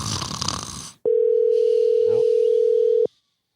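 A telephone call rings out unanswered: after a noisy start, one long steady electronic ring tone holds for about two seconds, clear and alone, then cuts off.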